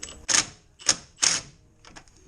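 A power tool nicknamed the bolt stripper 3000, an impact-type wrench, removes stubborn tight bolts on a race car in three sharp loud bursts, followed by fainter rattling taps.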